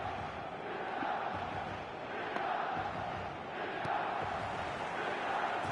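Dense, steady stadium crowd buzz at the San Siro in the eFootball 2025 video game, a continuous loud roar of massed voices without pause.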